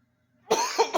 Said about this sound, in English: I have a horrible cough.